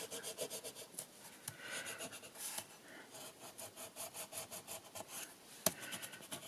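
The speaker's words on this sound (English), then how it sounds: "I'm going to sort of rub it so it goes into the squares of the tape, hopefully. Just use my spatula a little bit." A spatula rubs paint into drywall tape in quick, repeated scraping strokes, close and fairly quiet, with a sharper tap near the end.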